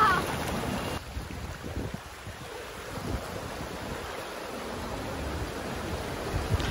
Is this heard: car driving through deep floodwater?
yes